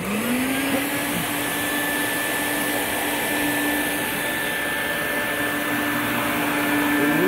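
A Quantum QX 8002 upright vacuum cleaner runs with a steady, loud motor drone and airflow hiss, holding an even whine throughout with no pauses and no voices.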